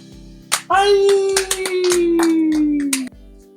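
An audience gives a burst of clapping to welcome a guest. It starts suddenly, is loud and fairly close, and a sustained tone and some voice-like sounds run alongside it before it stops abruptly.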